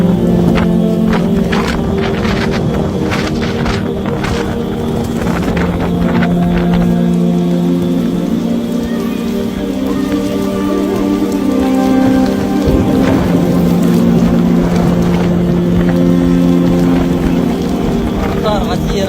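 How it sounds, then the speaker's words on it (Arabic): Heavy rain pours steadily in Mecca amid strong wind, a dense continuous hiss and patter throughout, with voices talking over it. "أمطار غزيرة وهواء شديد"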